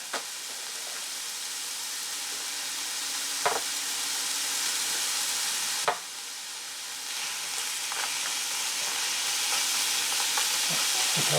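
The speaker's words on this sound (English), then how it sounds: "I'll warm this up in the pan" Food warming in a pan gives off a continuous soft sizzle and hiss, with a couple of brief clanks of a utensil against the pan, steady and close, without any talking.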